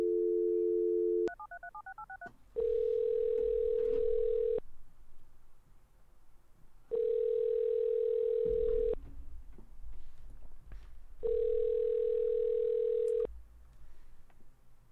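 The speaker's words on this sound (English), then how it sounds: "Allow me to call her." A telephone call in the video game OneShot: a steady dial tone, a short burst of dialing beeps, then three long ringback tones with pauses between them, clean and moderately loud with no talk.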